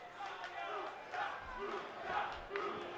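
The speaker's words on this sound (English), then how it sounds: "You hear the crowd here in the Hammerstein Ballroom on the side of Kalisto a little bit." Arena crowd noise in the Hammerstein Ballroom during a WWE 2K18 NXT wrestling match, a steady roar of spectators backing Kalisto with swelling shouts rising and falling throughout, carrying on without pause.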